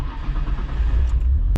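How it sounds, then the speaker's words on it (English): A Nissan Skyline GT-R R33 V-spec engine cranks and catches in a brief, close burst, settling into a rough low rumble for just over a second. "I'll go ahead and turn on the car."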